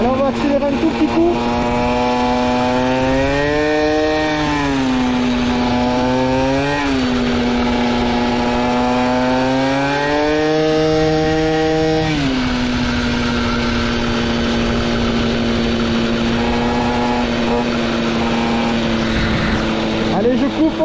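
Close, loud two-stroke buzz from a Peugeot 103 SPX moped fitted with an Airsal T5 exhaust extension, revving up and down several times and then settling to a steady idle, with someone speaking over it.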